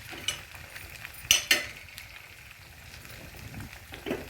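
Chopped ivy gourd and green chillies fry in a pan with a steady, soft sizzle, broken by a couple of sharp utensil scrapes and stirring clinks, close by and with no speech.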